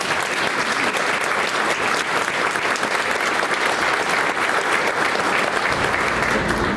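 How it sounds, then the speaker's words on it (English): Sustained, loud audience applause for event sponsors at an LGBTQ awards ceremony, a thick, steady roar of many hands clapping throughout nearly seven seconds. "Let's give them a round of applause."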